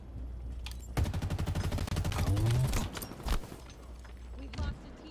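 Rapid bursts of automatic gunfire and weapon shots from the Halo Infinite video game rattle loudly in close succession, mixed with other game effects and a voice speaking over them.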